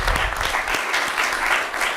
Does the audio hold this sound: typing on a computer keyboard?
no